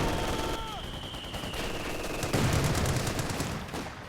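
Machine gun fire in the Company of Heroes 2 battle game, rapid bursts of rattling shots at mid distance, with a whistle and other battlefield noise mixed in and someone talking over it.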